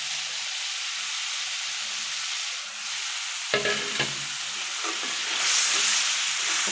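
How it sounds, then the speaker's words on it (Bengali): Spices stir-fried in a pan with a little water, a steady close sizzle with a burst of scraping stirring strokes midway before the hiss continues. "একে একে সব মশলাগুলো দিয়ে দিলাম, দিয়ে ভালো করে কষাবো"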